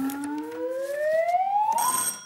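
Quiz-show buzzer on a British comedy panel game, a loud electronic tone that slides steadily upward for about two seconds, ending in a brighter, noisier burst.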